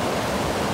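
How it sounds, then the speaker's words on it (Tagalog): Water flows in a steady, loud rushing current, a broad continuous wash of noise without breaks, close by and with no voices over it. "Masarap talaga makinig sa agos ng tubig"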